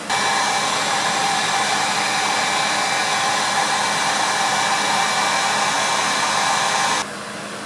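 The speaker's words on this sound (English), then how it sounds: "I'll hit that with a heat gun to clear it out" A heat gun blows on a glass distillation still head in a steady, loud, close roaring whoosh that runs unbroken for about seven seconds, then cuts to a quieter hum, with no talking.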